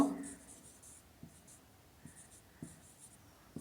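Chalk or marker strokes on a board during a classroom lesson, several short, faint scratching strokes in quick bursts, close and quiet in an otherwise still room.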